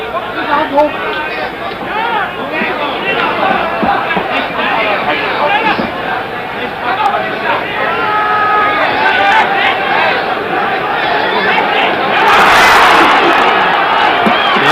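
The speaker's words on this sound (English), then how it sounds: "It's quite understandable that this crowd should root for their hero" A boxing crowd at a 1966 WBC title fight between Ali and Mildenberger roars steadily for its hero, a dense, loud wall of cheering and shouting that swells further near the end.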